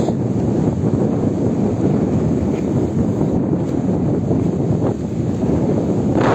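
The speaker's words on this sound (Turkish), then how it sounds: "güzel bir rüzgar var." Steady, strong wind by the sea at Ayancık, Sinop, buffets the microphone, a continuous roaring rush with a faint wash of surf beneath and no voices.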